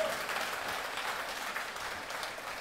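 A church congregation claps hands together during a worship service, a steady dense wash of applause from many people, fairly even in loudness throughout.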